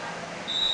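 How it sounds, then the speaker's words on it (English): A referee's whistle at a women's field hockey match between Argentina and Barbados gives one sharp, sustained blast that cuts in over the steady murmur of the crowd. "The whistle is finally gone."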